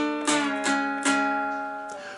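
Slide dulcimer plays a twelve-bar blues walk-down: three sliding strums ring close and clear, the last one fading on a sustained chord with no voice over it.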